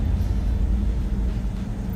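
A sheriff's patrol car engine growls with a steady, low rumble heard from inside the vehicle, constant and fairly loud throughout.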